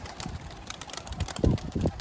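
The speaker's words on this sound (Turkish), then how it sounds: "Maşallah gökyüzü kuş dolu." Low pigeon coos sound near the end over a constant outdoor wash, with faint fluttering of pigeons in flight earlier on.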